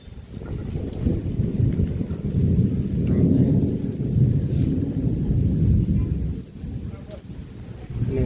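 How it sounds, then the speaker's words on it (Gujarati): A sustained rumble of thunder rolls on over steady rain, loud and continuous, fading slightly near the end. "ગાજ વીજ ને કડાકા વડાકા"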